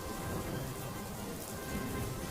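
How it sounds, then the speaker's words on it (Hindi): Heavy rain pouring down in a dense, continuous hiss with steady patter, unbroken from start to finish. "धीरे धीरे करके बारिश बहुत तेज हो जाती है"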